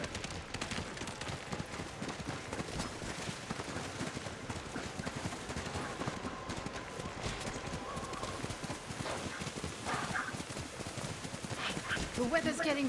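Horse hooves clip-clop at a steady, continuous trotting rhythm in Ghost of Tsushima on a snowy road in worsening weather, close and clear over wind, game ambience and a speaking voice.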